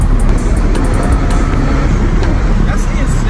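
A BMW 340i with a B58 engine and a downpipe tune accelerates hard, heard from inside the cabin as a loud, steady low engine roar with road noise throughout.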